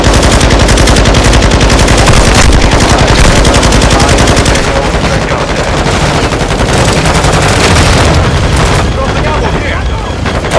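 Call of Duty video game combat with continuous loud machine gun fire, rapid rattling shots that run almost without pause alongside occasional booms, with a voice speaking over the battle.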